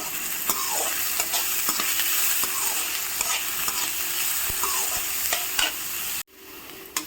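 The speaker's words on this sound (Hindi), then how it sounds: "अब हम डाल देंगे कटी हुई प्याज और इनको भी हल्की हल्की भूनेंगे।" Chopped onions and garlic frying in a pan, a dense steady sizzle with repeated stirring scrapes and clicks, cutting off abruptly near the end.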